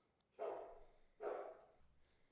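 A pet dog barks twice in a quiet room, two loud, close, full barks about a second apart with near silence around them.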